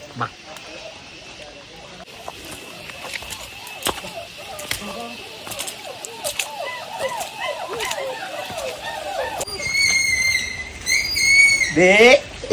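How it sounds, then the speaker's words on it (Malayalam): White doves coo in soft, repeated low calls from nearby, mixed with sharper bird sounds near the end, while a person talks over them. "ഇതാണ് ആ സമാധാനത്തിന്റെ വെള്ളരി പ്രാവുകൾ എന്റെ പുറകിലിരിക്കുന്ന"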